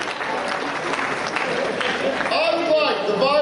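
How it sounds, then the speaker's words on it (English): A crowd at a show at Anime Expo in Los Angeles breaks into sustained, dense applause. The clapping fills the room steadily, and a voice starts speaking over it toward the end. "Give a round of applause."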